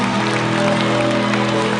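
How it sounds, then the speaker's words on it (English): An audience applauds loudly and continuously at a gathering, with the clapping blended into a sustained musical tone, and no pause across the short stretch. "Come on, give a round of applause."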